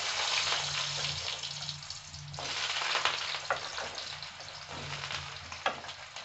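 Potatoes go into hot oil already tempered with black cumin and fry with a strong, continuous sizzle, broken by bursts of sharper crackling and spattering and a low hum underneath.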